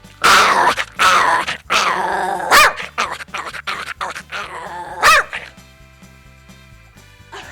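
A man imitates a tiny long-haired Chihuahua with a string of loud yips, barks, growls and whimpers in quick bursts during a stage impressionist act, trailing off into quiet near the end.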